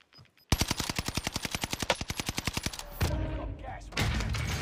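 Rapid automatic gunfire from a video game rings out in a fast, even burst of about twenty loud shots lasting over two seconds, followed by muffled game noise and a rushing sound.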